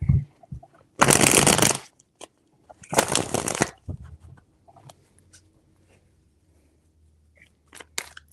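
Tarot cards being shuffled in two loud, dense bursts of riffling, each about a second long, followed by quieter handling, faint taps and light clicks.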